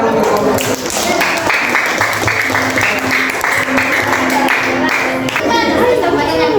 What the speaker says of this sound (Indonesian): kasih tepuk tangan untuk kamu